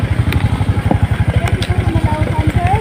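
A motorcycle engine runs close by on a long trip through landslide-hit roads, a steady low pulsing thrum with rattly clatter, while people talk faintly over it.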